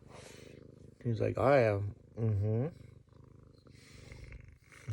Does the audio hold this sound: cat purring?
yes